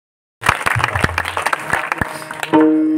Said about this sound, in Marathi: अशा कडकड टाळ्या झाल्या पाहिजे